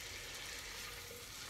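Onions sweating with pancetta in a saucepan, giving a soft, steady, continuous sizzle that stays faint and even throughout, with no talking.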